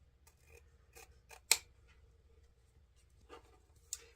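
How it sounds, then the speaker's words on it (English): Scissors angle-trimming the ends of ribbon tails for a patriotic wreath, a few quiet close snips spaced apart with one sharper cut standing out, against a soft low hum. "I'm going to grab my scissors and angle trim the ends of my ribbon tails."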